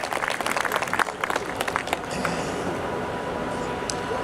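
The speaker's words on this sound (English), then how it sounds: "Can I ask you for a big applause?" A crowd at an awards welcome reception bursts into dense clapping, then it settles into a steady, even wash of applause that carries on to the end.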